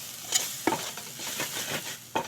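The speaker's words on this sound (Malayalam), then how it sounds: "1 ടേബിൾ സ്പൂൺ മുളക് പൊടി, 2 ടേബിൾ സ്പൂൺ മല്ലിപ്പൊടി, എന്നിവ നന്നായിട്ട് ഇളക്കുക." A spoon stirs chili powder and coriander powder in a pan for a tomato curry, giving a soft continuous sizzle with a few sharp scraping knocks against the pan.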